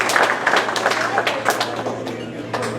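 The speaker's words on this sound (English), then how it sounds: "Please give a round of applause to yourself." A room full of people at a talk claps together in a steady, moderately loud round of applause, with scattered crowd voices mixed into the clatter.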